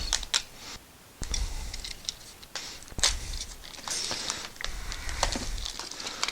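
New brake pads for a Honda CR-V rear brake service being unpacked, with crisp crinkling and tearing of packaging and sharp clicks and rustles in irregular bursts, close up with brief quiet gaps.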